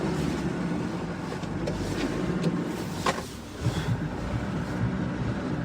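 A car engine runs steadily while warming up after sitting unused, a low continuous rumble with a few faint clunks and shifts partway through, fairly close and heard without talk.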